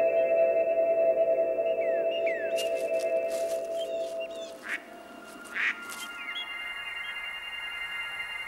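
Wood duck leaving a tree-hole nest in a northern forest, heard as brief squeaky calls partly masked by sustained orchestral music.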